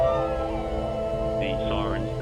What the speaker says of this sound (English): The siren started up now.